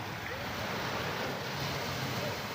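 Night water laps and washes near boats moored by the shore, a steady broadband rush with wind noise on the microphone, and no clear talking.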